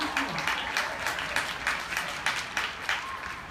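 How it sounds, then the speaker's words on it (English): Soft, scattered applause from a conference audience at a summit event, a light patter of claps that rises and falls in small bursts, subdued rather than enthusiastic. "It's a quiet applause. It's a golf applause."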